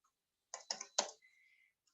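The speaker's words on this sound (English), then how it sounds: "Click press enter." Three quick close clicks in a row, a mouse click and a keyboard key press, followed by a faint fading tone, all in an otherwise silent room.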